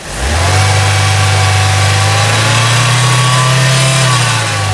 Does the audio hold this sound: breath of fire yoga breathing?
no